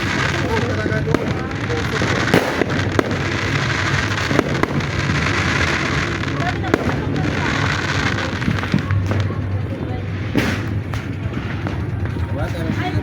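New Year fireworks pop and crackle continuously, a loud outdoor barrage with sharp individual bangs scattered through a dense rumble, while people chat in the foreground.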